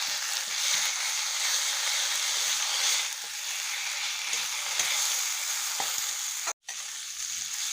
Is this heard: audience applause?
no